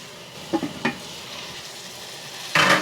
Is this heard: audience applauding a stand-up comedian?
no